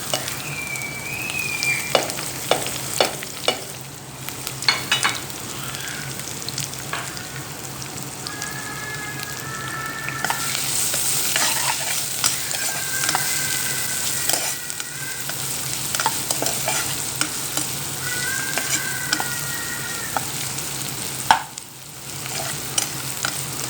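Chicken curry ingredients sizzle steadily in hot oil and are stirred with scraping strokes, a close, continuous frying hiss with a few sharp clicks and thin whistling tones at intervals, and no voices.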